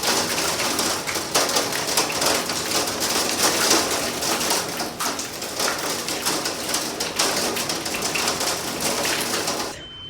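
Heavy spring storm rain and hail pounding steadily outside an open front window of a house, a dense continuous hiss with scattered sharp ticks of hail, loud and unbroken until it cuts out at the end.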